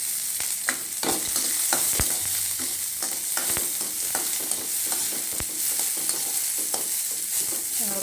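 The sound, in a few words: small onions sautéing in a pan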